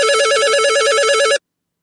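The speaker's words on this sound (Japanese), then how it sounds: "電話をかける。" A phone-call app plays a steady electronic telephone ring, a warbling two-tone trill that repeats without a break and then cuts off abruptly into silence.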